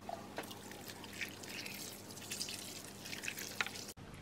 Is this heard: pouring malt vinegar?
yes